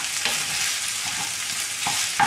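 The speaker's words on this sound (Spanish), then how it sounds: "ahora añadimos lo que es la carne. Lo vamos a mezclar, vamos moviéndolo para que la carne se vaya soltando" Minced meat fries in a pan for a bolognese sauce while a spoon stirs it, giving a steady close sizzle with soft scraping strokes and a couple of sharper knocks of the spoon near the end.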